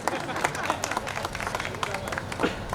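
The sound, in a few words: audience clapping at a poetry reading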